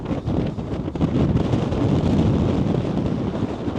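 Strong wind buffets the microphone on a blustery seaside walk at Filey, a constant loud roaring rumble with gusty swells and no voices.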